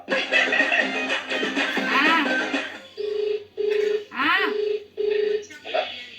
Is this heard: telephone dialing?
yes